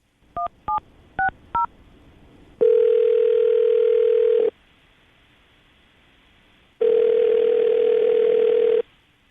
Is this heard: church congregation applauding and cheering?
no